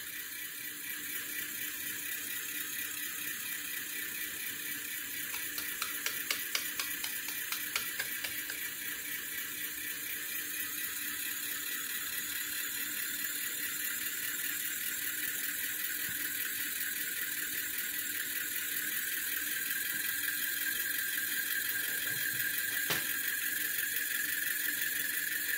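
A homemade compass magnet motor with a U coupling spins at high speed, giving a steady whir with a faint high-pitched squeal and light ticking throughout, fairly quiet and without talk.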